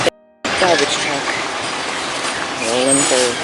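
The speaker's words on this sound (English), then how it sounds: "So the garbage truck" A garbage truck rolls past outdoors, a loud, steady broadband roar with squealing, tonal whines rising near the end, continuous for several seconds after a brief quiet start.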